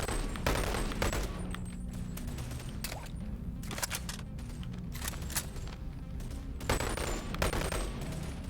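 Rifle gunfire in the VR shooter Boneworks, a steady run of sharp shots in quick irregular bursts across the whole stretch, close and fairly quiet, with no talking.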